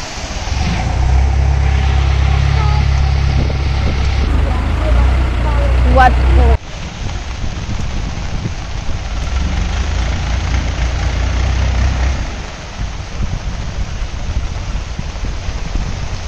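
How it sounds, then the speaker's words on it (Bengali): A boat engine drones loudly and steadily on a Bangkok waterway in heavy rain, then cuts out; another boat's engine swells and fades as it passes, with rain hiss throughout and voices talking. "আমাদের পাশ দিয়ে আরেকটা নৌকা যাচ্ছে।"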